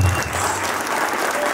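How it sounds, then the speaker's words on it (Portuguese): A crowd at a political speech for Cabo Zanola bursts into dense, loud applause, a continuous roar of many hands clapping close by. "Mais salva de palmas!"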